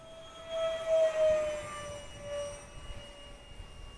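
A FreeWing F86 64mm EDF RC jet flies overhead, its ducted fan whining steadily, swelling louder as it passes near and then easing off into a fainter drone with a light wind rush.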